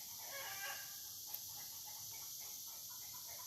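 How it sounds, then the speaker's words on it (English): Chickens clucking and vocalizing in a rural yard, a faint, irregular series of short calls at a distance over quiet background noise. "These chickens are really vocal today."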